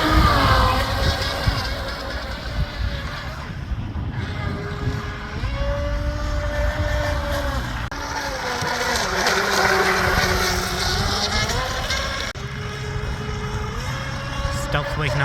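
Nearby, a Stealthwake R/C boat with a wire drive runs on water, its electric motor whining steadily and rising and falling in pitch as it speeds up and turns. Someone talks over the motor.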